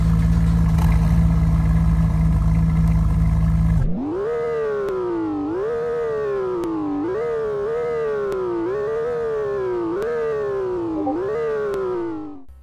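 Engine of a detailed car in the Roblox game Greenville, first a steady loud drone, then repeated rev-ups through rising gears, each climbing pitch then dropping back, close and alone with no talk.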